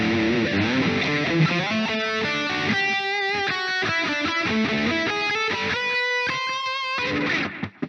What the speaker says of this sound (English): now you can hear that delay